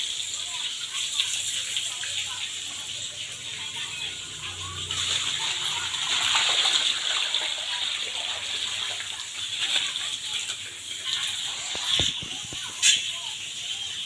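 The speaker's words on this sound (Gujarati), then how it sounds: "હવે વૃક્ષોને મારે પાણી દેવાનું છે" Water pours and gushes onto trees from a bucket, a steady wet splashing with brief bumps near the end, moderately quiet, with a voice speaking at times.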